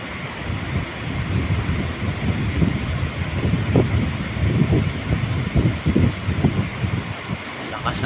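Strong sea wind buffets the microphone with a roaring rush, and big waves surge underneath, continuous and loud throughout.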